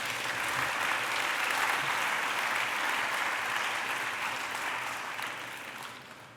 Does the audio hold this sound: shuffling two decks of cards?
no